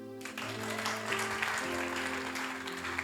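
A church congregation applauds warmly at a pastor's invitation, with steady sustained clapping filling the room over a low musical drone.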